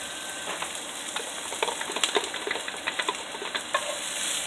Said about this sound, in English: Okay, we're going to put the onions in there.